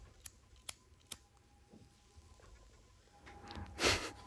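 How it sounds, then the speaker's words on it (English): A lighter clicks sharply three times in quick succession, then a longer rasping flick and flare follows, close and fairly quiet against a faint steady hum. "There's gonna be a lot of lighter clicking sounds on this interview."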